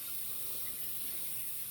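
Water runs steadily from a tap into a sink while shaving gear is rinsed off, a soft constant hiss and splash heard close with no talking.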